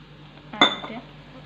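Ingredients for sugarcane-juice-style drink dropped into a mixer jar, one sharp clinking hit with a short rattle, heard alone against quiet background.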